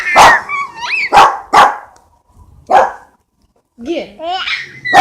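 A small dog barks in short, loud bursts, several quick yaps close by, while an adult and a baby make playful voices and squeals around it.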